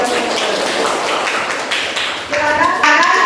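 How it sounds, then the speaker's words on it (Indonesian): A group of students in a classroom clap their hands together in a steady, close burst of applause, with voices chanting and talking over the clapping. "Tepuk tangan bagi"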